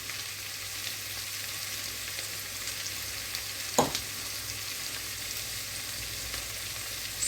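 Lengthwise-sliced carrots fry in a pan for a vegetable curry, giving a steady close sizzle and hiss throughout, with one brief sharper crackle or clatter midway.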